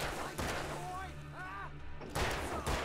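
Gunfire in the video game Alan Wake, a few sharp broadband shots near the start and end of the clip, with game sounds and tonal effects in between.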